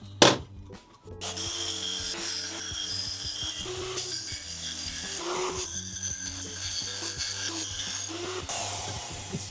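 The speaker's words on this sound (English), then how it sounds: "this copper, when you're rubbing it down and grinding it" Copper is rubbed down and ground by hand on a custom Harley-Davidson Speedo build, with a sharp knock at the start followed by continuous rasping, scraping strokes close by.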